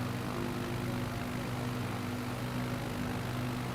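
Steady propeller-engine drone of a light airplane in Microsoft Flight Simulator 2020, a continuous loud hum with strong low tonal bands and broadband rush, unchanging throughout with no talk.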